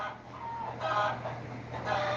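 A brooding hen clucking in a low, repeated stream of soft calls, fairly close and alone over a steady background hum.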